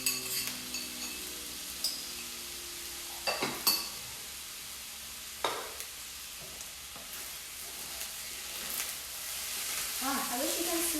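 Vegan fried rice with fermented tofu sizzles in a pan as sauce goes in, a soft constant hiss broken by spatula scrapes and clinks, the sizzle swelling louder near the end.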